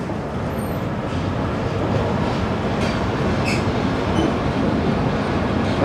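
Express train pulling out of Itarsi Junction, heard from inside as a steady rumbling roll of wheels on rails, loud and continuous, with faint high squeals now and then.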